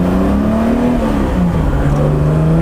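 A Mercedes-Benz 280SL engine pulls hard from inside the car, its revs climbing as a loud, steady drone with a rising tone, briefly dipping and then resuming its climb.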